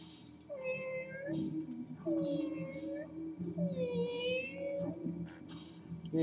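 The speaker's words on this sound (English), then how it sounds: "you see a little kitten" A cat meows three times in drawn-out, rising and falling calls, fairly close and clear, with brief pauses between them.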